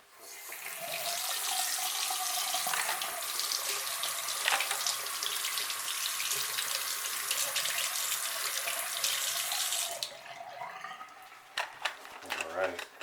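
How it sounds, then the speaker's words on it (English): Tap water runs hard over a metal piece being rinsed, a loud, steady close-up rush for about ten seconds, then cuts off, leaving faint scattered handling knocks. "rinse this off and then I'll dry it off."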